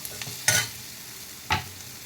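A spoon scrapes twice through a mixture of dried shrimp (sukat), onion, garlic and masala being roasted in a pan. The two stirring strokes come over a faint, steady sizzle.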